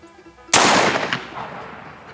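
A single loud, close gunshot from a .44 Magnum firing a MagTech 240 grain jacketed flat point round at a steel-toe boot, a sharp crack with a decaying echo tail.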